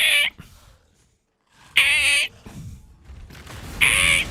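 A voice imitates a creaky treadmill with a few drawn-out, raspy squeaks separated by short pauses, close and fairly loud.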